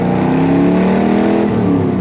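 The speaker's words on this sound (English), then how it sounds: "It's just you and that big block underneath the hood." Big-block V8 of a 1966 Chevrolet Corvette Stingray rumbling and revving steadily up close, a deep continuous engine drone with rising harmonics and no talk over it.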